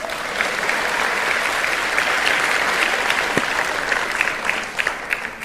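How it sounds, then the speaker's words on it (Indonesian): Sustained audience applause at a political party gathering, dense steady clapping filling the room, tapering slightly with a few scattered claps near the end. "Tepuk tangan dulu dong."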